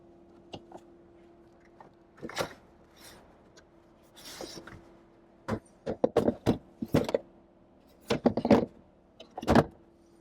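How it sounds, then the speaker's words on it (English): A removable cargo cover being slid off and stowed in the trunk of a 2025 BMW X3 M50, heard as scattered close plastic clunks, rattles and sliding knocks in bursts, with a low steady hum underneath. "So this cargo cover can be removed. It slides off pretty well."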